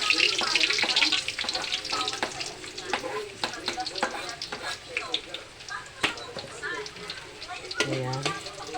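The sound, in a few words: sautéing garlic in hot cooking oil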